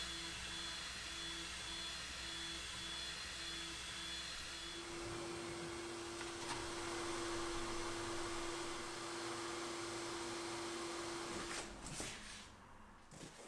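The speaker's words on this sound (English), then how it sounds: "Now I'll run an engraving test pattern on a scrap piece of plywood" Creality laser engraver working through an engraving test pattern on scrap plywood, a steady fan-like whir with a constant tone that holds for most of the stretch before the noise tapers off near the end.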